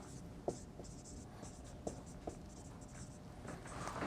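A pen scratches on paper while someone works through differential equations by hand, soft intermittent strokes with a few sharper taps, quiet and close with faint talk underneath.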